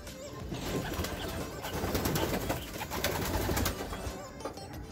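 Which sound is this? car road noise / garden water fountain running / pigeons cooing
pigeons cooing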